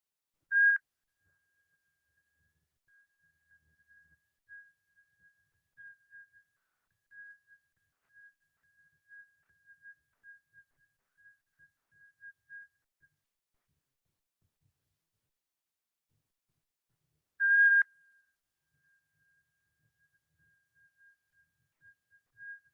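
Whistling breath during a Kundalini Yoga exercise gives thin high whistles: one sharp burst at the start, faint intermittent pulses through the middle, a near-silent stretch, then another strong whistle. No voice is heard.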